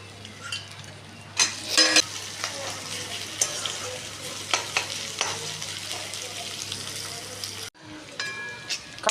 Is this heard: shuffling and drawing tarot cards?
no